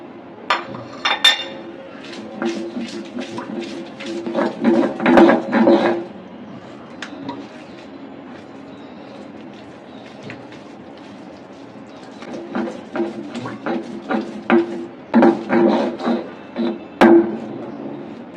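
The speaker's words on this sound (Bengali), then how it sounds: "এখন বেটে নেব পেঁয়াজ আর রসুন।" Onion and garlic being ground by hand on a stone slab, a series of close, rhythmic knocking and scraping bursts in several runs separated by quieter pauses.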